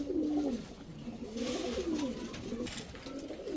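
Racing pigeons, including females from tournament-flown high-flyer Giribaz stock, give repeated low, rolling coos close by over a steady background murmur, with no speech.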